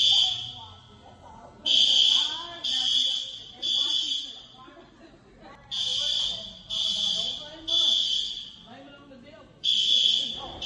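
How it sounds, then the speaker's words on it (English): Store fire alarm during a false alarm, blaring in loud repeated buzzing pulses of about a second each with short gaps, while people talk underneath. "thank goodness that was a false alarm"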